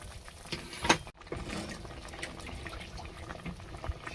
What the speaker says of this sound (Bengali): এই জলটা দিয়ে দিচ্ছি এর মধ্যে।